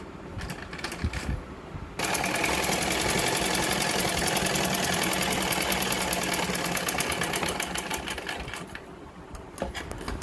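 A sewing machine stitches a rope belt onto a lined blouse, running loud and steady for several seconds with a rapid rhythmic whir, with quieter stop-and-start moments before and after.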